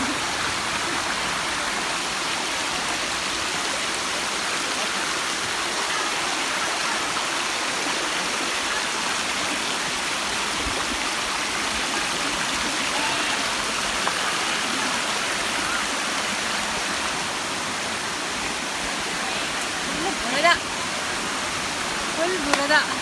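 The Ananthagiri Hills waterfall in the Vikarabad forest flows with a dense, steady rushing roar of water that stays constant and close throughout.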